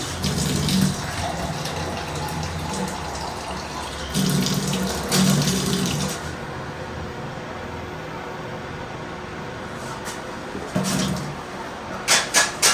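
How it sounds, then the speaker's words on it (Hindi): Drinking water running from a tap, a steady hissing rush in short bursts with pauses between, fairly close, with faint low thumps and brief knocks near the end. "और अब पहले मैं पानी पीता हूँ।"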